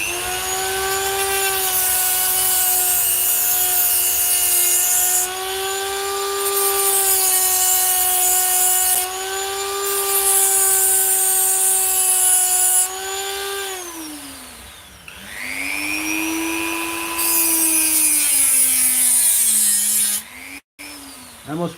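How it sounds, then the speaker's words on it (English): A Dremel rotary tool sawing through the plastic casing of a budget drill battery pack, a loud continuous high-pitched whine that rises and falls in pitch as the cut bogs down, with brief dips and a sudden stop near the end. "I'll just keep sawing and it'll come out. The Dremel will win this battle."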